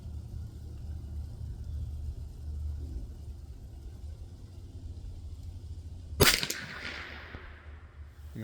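A single sharp crack from a Savage Mark II FV-SR .22 LR bolt-action rifle, fired at an outdoor target, rings out once midway through steady low background rumble and fades with a brief tail.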